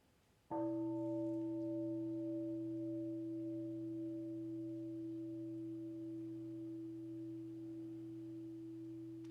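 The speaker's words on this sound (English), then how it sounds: "enjoy a sound of the bell" A meditation bell is struck once and rings out with a clear, sustained tone that decays slowly over about nine seconds, alone and close.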